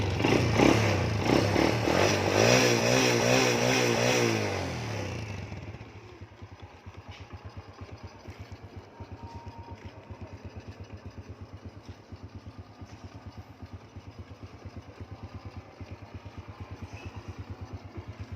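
A 2005 motorcycle engine revs loudly at first, then drops to a steady, rhythmic idle that putters on close by.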